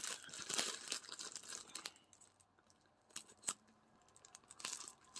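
Someone opens a heavily taped Temu package at close range: snipping, crinkling plastic and tearing tape in quick bursts, then a few pauses and more rustling.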